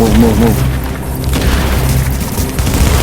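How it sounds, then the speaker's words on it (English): A shock grenade explodes in the video game The Division, giving a loud, booming burst amid gunfire and game noise, with players talking over the action. "There's a shock nade."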